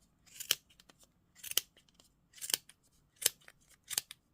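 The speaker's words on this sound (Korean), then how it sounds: "이 홈에 가위가 들어가거든요. 잘라 주시고, 끝까지 잘라 주시고" Scissors snip through crochet yarn in five crisp, evenly spaced cuts, close and clear with quiet pauses between them.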